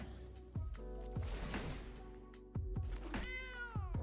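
Digital cat meows from the Cauldron Familiar card in a Magic: The Gathering video game, several short repeated mewing calls with soft thunks between them, fairly close and clear with no talking.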